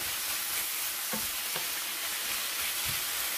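Vegetables and meat sauté in a pan for a pizza filling, giving a steady close sizzle with a few brief stirring scrapes, and nobody talks.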